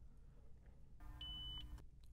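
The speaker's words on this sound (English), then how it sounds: "Press and hold a channel preset button until a beep sounds." A Mazda MX-5 Miata car radio gives a single short, clean electronic beep as a channel preset button is held, faint against a low steady cabin hum.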